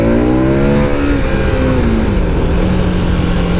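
KTM 1290 SuperAdventure S motorcycle engine heard up close and loud, revving through rising pitch sweeps as it accelerates hard, with a brief dip before climbing again, no talking.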